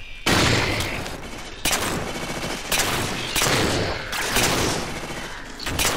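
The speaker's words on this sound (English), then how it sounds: "Gonna make these shots count." Rapid bursts of gunfire from a Halo 4 firefight, several loud volleys separated by brief gaps over about six seconds, with no talk.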